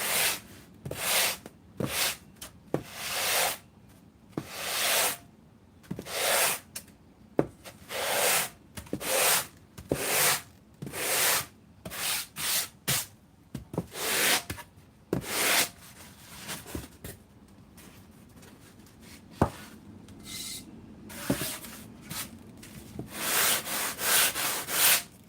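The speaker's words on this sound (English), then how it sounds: "All I'm trying to do right here, just sand the fuzz off of it." Hand sanding the fuzz off hot-wire-cut foam, a run of short scratchy rubbing strokes in an uneven rhythm, close and fairly loud, with brief pauses between bursts.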